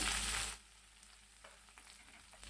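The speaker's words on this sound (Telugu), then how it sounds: "ఇప్పుడు ఎండు చేప ముక్కలను కూడా వేసుకుంటున్నానండి ఇలా లైట్గా ఫ్రై అయితే సరిపోతుందండి" Dried fish pieces lightly frying in a pan, a loud hiss at first that quickly drops to a faint, soft sizzle with occasional small pops.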